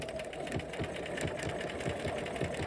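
A sewing machine runs steadily through a buttonhole stitch along an embroidered stem, giving a continuous fast mechanical whirring with quick rhythmic needle clatter, close and moderately loud.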